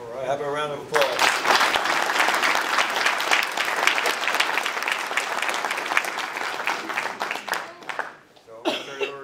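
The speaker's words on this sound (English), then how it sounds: "have a round of applause" At a military retirement awards ceremony, an audience breaks into steady applause after a brief spoken phrase. It continues for several seconds, tapers near the end, and a voice resumes speaking.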